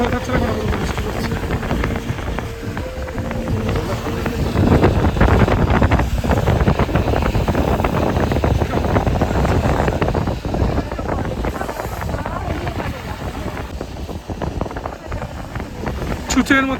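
Cold mountain wind at Nathula Pass near Gangtok buffeting the microphone, a dense continuous roar with gusting swells, loud and close throughout.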